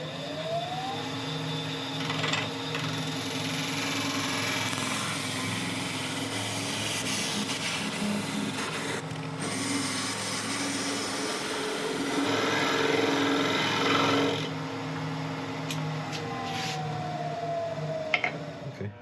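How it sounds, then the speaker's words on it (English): Wood lathe spinning a resin and Mallee burl blank at about 1300 RPM, a continuous high whine with steady tool rasping as the top is turned down, without breaks. "So I'm just going to turn over the top and get rid of the excess."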